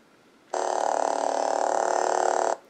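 A cheap AliExpress lightsaber hilt vibrates in one steady, buzzing drone lasting about two seconds, starting and stopping abruptly, close and alone with no voices.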